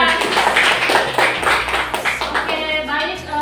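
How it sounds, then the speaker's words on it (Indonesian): Students in a classroom clap for their teacher, a quick burst of close hand claps mixed with voices calling out over it. "tepuk tangan dulu untuk Ustaz"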